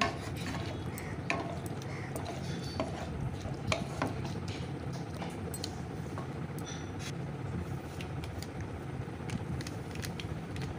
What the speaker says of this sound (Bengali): এখন বেশ ভালো করে একটু নাড়াচাড়া করে সমস্ত মশলাটা মিশিয়ে রান্না করে নিচ্ছি।